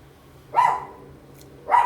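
A dog barks twice, about a second apart, each bark short and moderately loud over a quiet, steady background hum.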